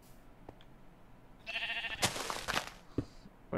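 Minecraft sheep bleating in a building session, a few short bleats rising over quiet game ambience with brief clicks, no talk.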